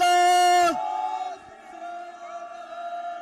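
A large crowd at a Sikh political gathering raises a loud unison battle cry of the jaikara, a long sustained shout that breaks off and trails into scattered voices and murmuring.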